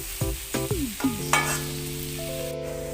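Potato fry being stirred gently in a pan, soft scraping strokes over a steady low sizzle, with a few distinct stir sounds near the start and background music tones running underneath.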